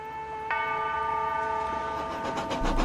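A Thomas and Friends steam engine pulling a passenger train, a steady horn tone sounding throughout and brightening sharply about halfway through the first second, over a continuous rolling rumble and clatter of the rails.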